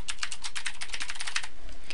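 Rapid keystrokes clatter on a computer keyboard at a desktop, a steady close run of clicks filling the moment with no talking.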